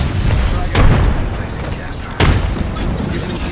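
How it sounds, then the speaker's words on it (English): A frag grenade detonates in the video game Apex Legends, heard as two loud, heavy booms about a second and a half apart, each rising sharply out of a constant roar of game noise. "Grenade. Frag out."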